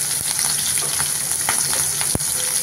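Turmeric and asafoetida sizzle steadily in hot oil for a Marathi tempering, a dense continuous frying hiss close up with one brief louder clink near the end.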